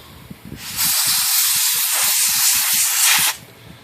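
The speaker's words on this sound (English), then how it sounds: "Let's go ahead and spray this off with some air one more time." A single sustained blast of compressed air cleaning a Hermes typewriter part, a loud bright hiss lasting nearly three seconds, preceded and followed by faint small handling noises.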